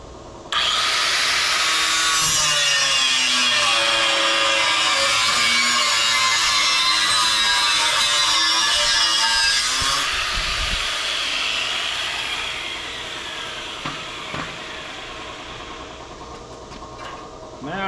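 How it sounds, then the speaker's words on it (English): Steady, harsh grinding of a cutting tool cutting a metal tab off a Lincoln SA200 welder for about ten seconds, then a quieter tapering whir as it winds down. "I'm gonna go ahead and cut this tab off."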